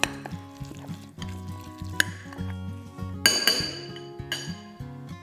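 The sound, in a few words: mixing tuna salad with lemon juice and spices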